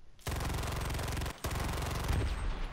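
Rapid automatic gunfire in a battle royale video game, loud and sustained bursts with a brief pause near the middle, then continuing firing.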